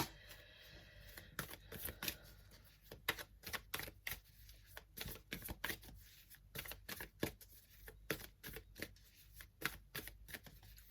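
Playing cards shuffled and cut by hand, a quiet close run of rapid riffling flutters and soft slaps repeating in bursts, no talking.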